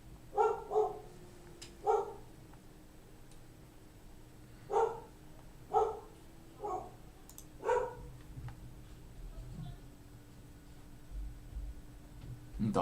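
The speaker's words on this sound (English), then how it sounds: "Dog is losing her mind." A dog barks in short bursts indoors, close and loud, with several barks in quick succession at the start and another cluster in the middle, then quieter yips fading out over a low room hum.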